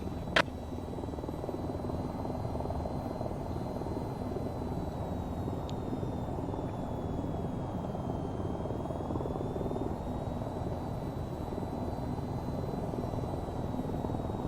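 Aircraft engine drone in the flight game VTOL VR during a multiplayer formation climb, a steady, dense rumble with a faint whine above it, continuous and unbroken, with no speech.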